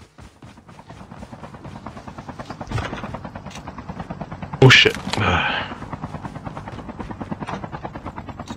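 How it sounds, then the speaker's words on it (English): A video game helicopter's rotor thumps in a fast, steady chop throughout, with a sharp loud burst like gunfire in the middle and a voice briefly exclaiming. "Bring the chopper over."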